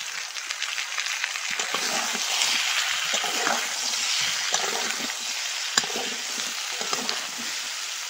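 Bottle gourd pieces sizzle in a pan of hot oil while being stirred, a dense continuous frying hiss broken by scraping spatula strokes and wet clacks, close up with no talking.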